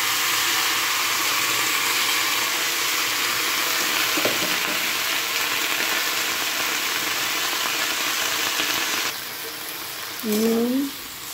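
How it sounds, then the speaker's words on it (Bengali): Panch phoron spices and Malabar spinach fry in hot oil in a pan, a loud, steady, close sizzle that drops slightly near the end, followed by a brief clink of utensils. "তো ওর মধ্যে আমি আর একটু তেল গরম করে পাঁচফোড়নটা দিয়ে দেবো। এবার দিয়ে দেবো শাকটা।"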